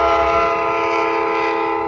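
Train on the Qinghai-Tibet Railway crossing uninhabited high plateau near the Tanggula Pass, heard as a loud, steady, close tonal horn or whistle-like drone sustained throughout, with no talking.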